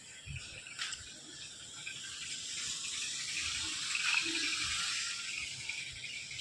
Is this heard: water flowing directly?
yes